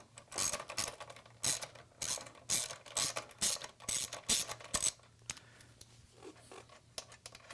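A ratchet loosening the top exhaust bolt on a Honda CB1000R motorcycle during an SC Project exhaust install, about a dozen crisp close clicking strokes in a quick rhythm, then quieter handling noise.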